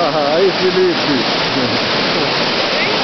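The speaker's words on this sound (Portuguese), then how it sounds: "Vamos filmar a cachoeira" A waterfall roars as a broad, constant rush close by, while someone speaks briefly at the start over the falling water.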